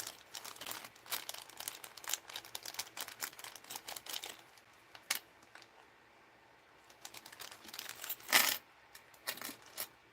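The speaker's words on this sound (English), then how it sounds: "I have some keys here. And I think I'm just going to hang keys." Small metal keys for mixed-media necklaces clink and jingle in quick, scattered bursts of light rattling, fairly faint and close by, with short quiet gaps and one louder jangle near the end.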